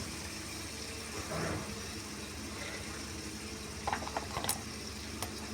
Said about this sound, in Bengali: এরপরে কড়াইশুঁটিটা ছেড়ে দেবো, তো কড়াইশুঁটিটা একটুখানি ভাজা ভাজা হয়ে যাবে।